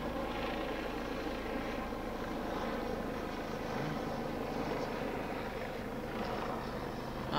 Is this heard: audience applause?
no